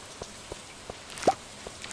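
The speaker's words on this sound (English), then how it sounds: "Because it's raining, can't really do anything." Rain in the farming video game Stardew Valley falls as sparse, soft drips and patters on a quiet background, with a few isolated ticks and one slightly louder drop.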